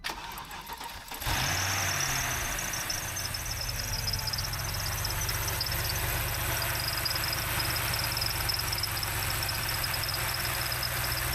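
A car engine cranks and catches, then settles into a steady, loud idle with a persistent whine from a noisy belt running throughout, no voices.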